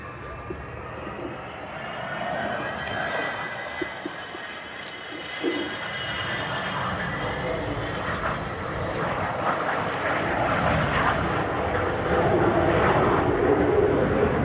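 An Avro Vulcan XH558 bomber passes overhead at the RIAT 2012 airshow, its jet engines a loud, steady roar that builds slowly over fourteen seconds, with a commentator talking faintly beneath it.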